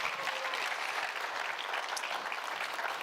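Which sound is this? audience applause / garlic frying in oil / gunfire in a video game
audience applause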